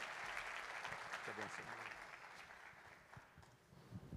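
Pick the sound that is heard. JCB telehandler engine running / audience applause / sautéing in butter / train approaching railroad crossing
audience applause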